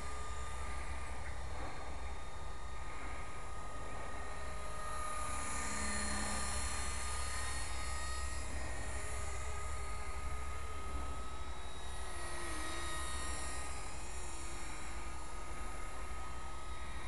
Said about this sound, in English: I love flying these little helicopters.